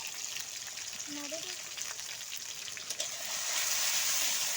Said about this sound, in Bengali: পেঁয়াজ কুচি দিয়ে ভালোভাবে পেঁয়াজটা ভাজা ভাজা করে নিব